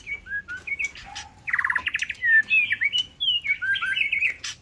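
Caged white-rumped shamas and bulbuls chirp and sing close by, with bright whistled phrases, quick trills and tweets running back to back over a soft background hum.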